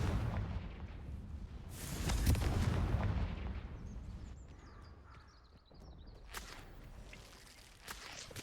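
A Confringo fire spell blasting in a Harry Potter video game, a broad booming burst swelling midway and fading into rumbling debris, with scattered clattering after.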